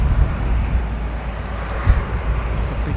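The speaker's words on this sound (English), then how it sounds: "Listen to the Trents humming away" Rolls-Royce Trent jet engines hum at Heathrow Airport as a steady, loud, low rumbling drone with a dense broadband roar that holds level throughout.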